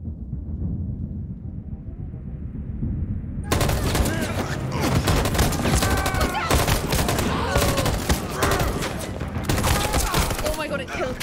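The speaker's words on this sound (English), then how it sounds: "Oh my gosh, it's gonna shoot them." An android opens fire on people in Detroit: Become Human, a loud sustained burst of rapid gunfire that cuts in abruptly after a quieter stretch of low rumbling game ambience, with a voice briefly heard underneath.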